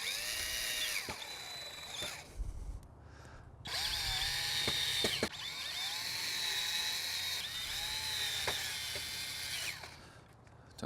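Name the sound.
driving screws through metal flap into pre-drilled hole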